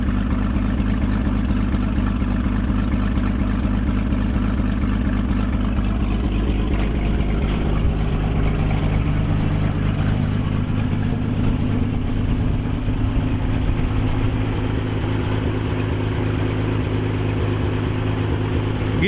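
A 1957 Dodge engine, revived after years of sitting, idles loudly and unevenly with a severe exhaust leak, a rough, rumbling exhaust sputter throughout and slight changes in pitch.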